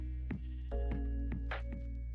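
Sheep bleating in the Minecraft video game, several short repeated bleats at a steady rhythm, fairly close and clear over a quiet background hum, with no talking.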